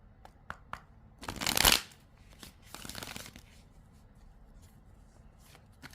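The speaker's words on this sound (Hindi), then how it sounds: "am going to shuffle cards" A deck of tarot cards is shuffled close up in a quiet room: one loud, rapid riffle, then a softer shuffle, with light card taps around them.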